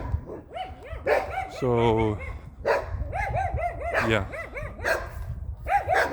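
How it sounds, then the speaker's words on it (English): A dog barks repeatedly at close range, sharp rhythmic woofs with a drawn-out whine in between, continuing throughout while someone talks briefly. "Barking at me."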